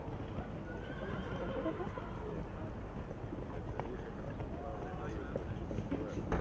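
A horse whinnies and its hooves clip-clop while it rides off into the distance, a faint and continuous sound with people talking over it outdoors.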